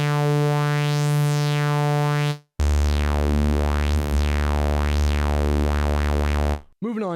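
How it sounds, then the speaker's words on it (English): Novation Summit synthesizer in dual filter mode plays a droning tone with sweeping, swooping filter resonances that rise and fall, a brief gap near the middle, then faster wobbling sweeps to the end. "we've got a dual filter mode, which is really cool. That sounds like this."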